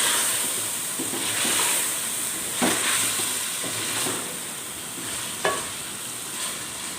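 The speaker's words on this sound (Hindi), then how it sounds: "ये सारे मसाले इसमें ऐड कर लेंगे और 1 मिनट तक अच्छी तरह से भून लेंगे।" Whole spices for chicken biryani sizzle and fry in an oil-filled pan, a constant hiss broken by occasional spoon scrapes and stirring clinks, with no one talking.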